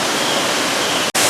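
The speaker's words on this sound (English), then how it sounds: "We got a waterfall." Waterfall splashing into a zoo otter exhibit pool, a loud steady roaring wash of water close by that cuts out for a split second near the end before resuming.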